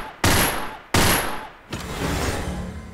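Bursts of Allied SMG 26-40 submachine gun fire in the virtual reality shooter Gun Club VR: two loud, sharp volleys, then a third longer, rougher burst trailing into steady noise.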